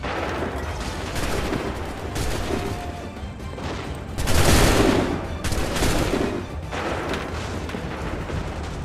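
Massed musket volleys in Assassin's Creed III, a steady rumble of battle gunfire building to one loud crashing volley in the middle, followed by further ragged salvos.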